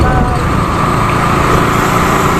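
Shikara boat engine on the backwaters at Alappuzha, a steady loud drone with a high buzzy whine running unbroken throughout, no pauses or changes in pace.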